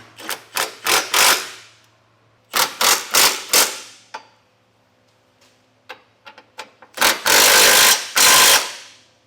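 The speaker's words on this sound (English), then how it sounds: "Now we're going to take a 19mm socket and snug these up." An impact tool drives a 19mm socket onto flange nuts while a Curt trailer hitch receiver goes onto a 2024 Subaru Crosstrek. Loud rapid hammering bursts come in three clusters, with quiet gaps and faint clicks between them.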